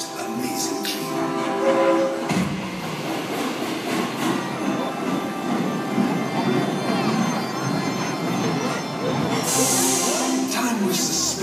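A rumbling train with rattling wheels and metallic squeals plays as a loud sound effect in a 3D light show in Atlantic City, a continuous roar with musical tones underneath and a hissing burst near the end.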